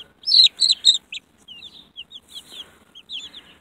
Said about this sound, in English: I love these little chickens.